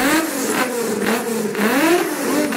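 A Volkswagen VR6 engine in a VW Scirocco revving up and down in smooth swells, loud and close, the pitch rising and falling twice with no talking.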